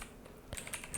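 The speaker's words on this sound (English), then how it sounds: "And I'm typing here" Quick keystrokes on a computer keyboard during OBS Studio setup, a few soft taps followed by a louder cluster of clicks in the second half, close by with no talking.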